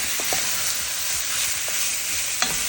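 Fully cooked sausage browning in a pan gives a steady, close hiss of sizzling fat, with a few soft scraping stirs and one sharp tap near the end.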